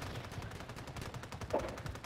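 Rapid automatic gunfire in a video game, a quick stream of evenly spaced shots at low level, alone without talk.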